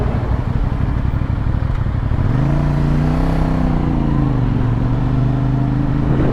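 A 2023 CF Moto NK 450 motorcycle engine hums steadily while riding on new tires being broken in, with the pitch rising and falling as it revs, close and continuous with a constant wind rush.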